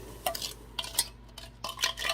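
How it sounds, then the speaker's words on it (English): A spoon scrapes and clinks around a pot of boiling pineapple jelly as sugar is stirred in, giving several separate scraping strokes spaced irregularly, close by and fairly quiet against a faint low hum. "Keep stirring."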